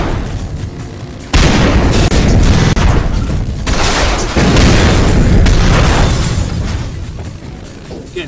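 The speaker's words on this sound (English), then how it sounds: "They got the Arnold Schwarzenegger Terminator 2. Shotgun animation" A Terminator 2 style shotgun fires in the motorcycle combat game Road Redemption, with loud, dense booming blasts running almost continuously over game action after a quieter opening.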